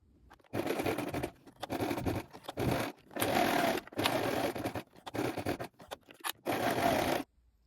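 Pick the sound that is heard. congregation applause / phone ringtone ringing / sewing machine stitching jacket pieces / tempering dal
sewing machine stitching jacket pieces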